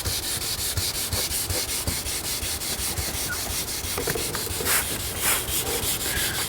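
Car paint being wet sanded by hand with fine-grit sandpaper, moving from 400 to 600 grit, giving a steady, close rhythmic rubbing and scraping that runs throughout.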